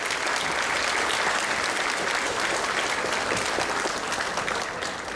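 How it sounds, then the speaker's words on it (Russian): Sustained, dense applause from a large audience at an award ceremony honouring a mother, with many hands clapping steadily and loudly for several seconds without letup. "Уважаемые гости, не скупитесь на аплодисменты"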